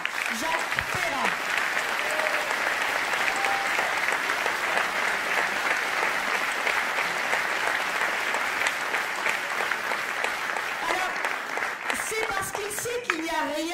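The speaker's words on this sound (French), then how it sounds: "je vous demande d'applaudir encore chaleureusement Jacques Perrin" A crowd at a French political rally in Vallauris bursts into warm, sustained applause, dense clapping filling the hall for several seconds before it thins out and voices and cheers emerge near the end.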